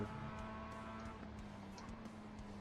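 A race car engine in the iRacing video game at Oulton Park drones at a constant pitch with a low harmonic hum, continuous and fairly loud, with no voices.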